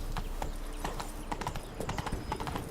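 Roach the horse's hooves clip-clop in a steady walking rhythm on ground in The Witcher 3, close and clear over a low ambient bed, with a faint voice briefly present.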